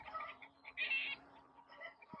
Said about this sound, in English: Neither do my roosters.